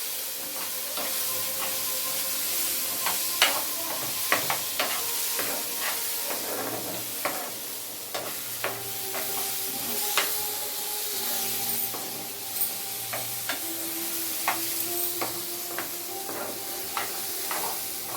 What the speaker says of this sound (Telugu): పెసరపప్పుని బాగా వేపుకోవాలి. మాడకుండా దగ్గరుంచి చక్కగా కలుపుకోవాలి.